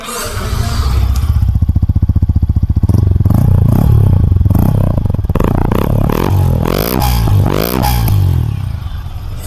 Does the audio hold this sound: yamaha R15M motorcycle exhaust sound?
yes